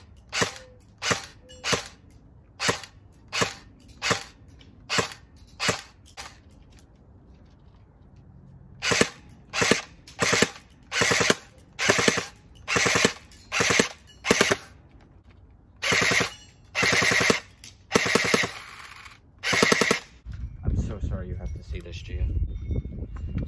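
FN Herstal SCAR-L airsoft rifle firing in repeated bursts of sharp cracking shots, loud and close, with short pauses between volleys and a mechanical rattle near the end.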